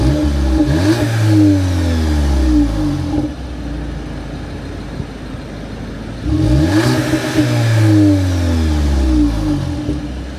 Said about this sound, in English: I want to give you a few revs to see what you think of the exhaust on this car.